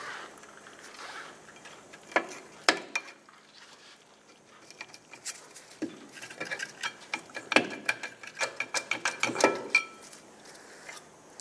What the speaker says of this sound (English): Now with a 14mm socket, remove these 2 bolts that hold your caliper bracket onto the knuckle.